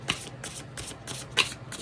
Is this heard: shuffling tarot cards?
yes